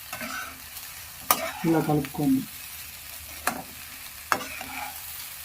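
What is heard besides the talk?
mixing puffed rice uggani with chickpeas in pan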